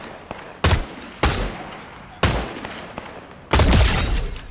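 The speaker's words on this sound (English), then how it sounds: "Where is all this gunfire coming from?" Video game gunfire crackles in four loud bursts, each a dense spray of shots, spaced roughly a second apart with the last burst longest and heaviest, with no talking over them.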